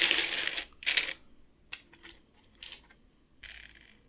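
Uncirculated Indian five-rupee brass coins from the 2015 Hyderabad mint clink and jingle in the hand, with bursts of bright metallic chinks close up and brief pauses between handlings.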